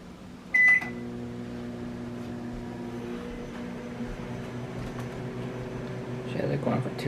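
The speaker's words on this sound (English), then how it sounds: "we're going to heat it up in the microwave to get it to 105 degrees" A microwave oven hums steadily while heating a cup of water, starting with a short beep and running as an even, close drone with faint background sounds.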